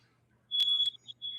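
A smoke alarm chirps indoors in a few short, piercing high beeps, a longer tone followed by two brief ones, standing out over a faint low hum.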